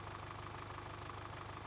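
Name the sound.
Kramer Allrad tractor engine idling in Farming Simulator 2013 video game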